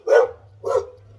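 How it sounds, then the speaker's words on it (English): Two sharp barks from a dog reacting to someone passing by, the second a little softer, over a low steady hum with no talk. "The dogs are barking because someone's going past."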